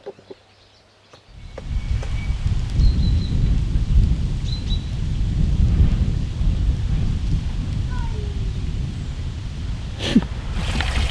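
Steady broadband rushing of wind through poplar leaves, loud and continuous, with a few faint bird calls and a sharp knock near the end.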